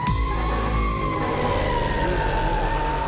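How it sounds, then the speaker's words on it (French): Fire engine sirens wail steadily and loudly as the trucks arrive at a burning house, a continuous rising-and-falling tone over heavy engine rumble. "arrive sur les lieux toutes sirènes hurlantes"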